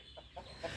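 A chicken hidden in the bushes on a Telugu village farm answers with three soft, brief clucks, faint and somewhat distant against a quiet outdoor background.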